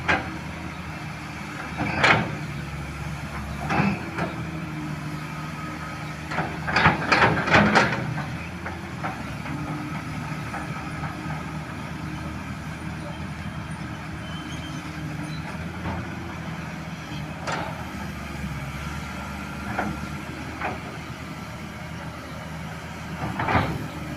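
A CAT 320 V2 excavator engine drones low and continuous throughout while the arm extends, with occasional sharper knocks and mechanical bursts rising above the rumble.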